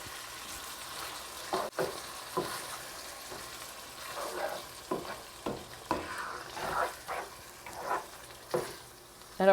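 Meat simmers and sizzles in a pan for lasagna, a steady frying hiss broken by repeated scrapes and stirring knocks, fairly close.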